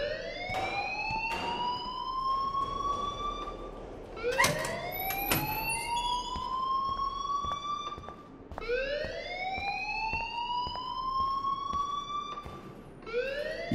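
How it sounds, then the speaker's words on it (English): An alarm in the Life Is Strange video game wails with rising, siren-like sweeps that repeat steadily, loud and continuous, with no talking over it. "please turn off that alarm"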